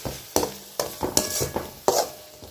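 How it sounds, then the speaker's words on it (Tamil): Chicken sautéing with yogurt and masala in a pan, a utensil stirring in repeated scraping strokes over a soft sizzle, close and fairly quiet, with no talking. "இந்த மசாலா தயிர் எல்லாம் சிக்கனோடு சேர்ந்து நல்லா வதங்கணும்"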